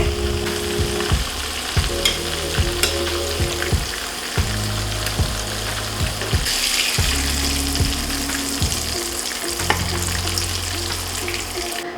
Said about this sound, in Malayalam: അപ്പോൾ നമ്മുടെ ചിക്കൻ നന്നായിട്ട് ഫ്രൈ ചെയ്ത് വന്നിട്ടുണ്ട്.